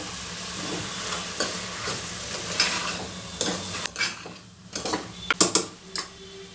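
Spatula scraping and stirring chilli powder, turmeric and coriander powder in a hot pan with a soft sizzle, irregular clinks and scrapes growing sharper toward the end, no voices.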